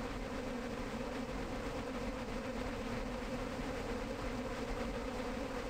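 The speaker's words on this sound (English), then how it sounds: "It's the bees." A dense, steady swarm drone of buzzing bees fills a horror video game scene, loud and unbroken throughout with no talking.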